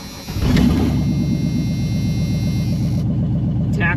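A Jeep Cherokee with a swapped LS V8 fires up for the first time, catching with a quick rev and then settling into a loud, steady idle close by.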